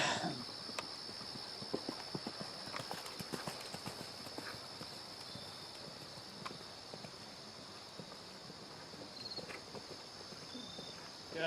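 Steady clip-clop of a horse's hooves walking at an even pace, with faint crickets chirping in the background.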